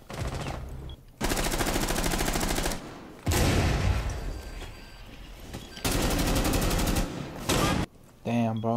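Video game gunfire as a robot shoots down players: long bursts of rapid automatic fire alternate with short gaps, loud and close, with a voice talking between the volleys.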